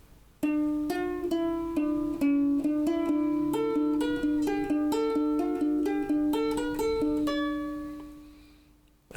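A ukulele picks a clear single-note scale melody, each note ringing distinctly and returning repeatedly to a low D that fills the gaps between phrases, played close and alone before the last note fades out.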